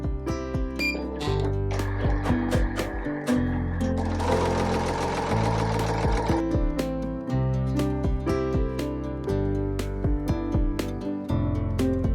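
A Smartstitch embroidery machine sews a thick satin border stitch, producing a fast, steady, rhythmic mechanical chatter up close, with brief changes in pace and nobody talking.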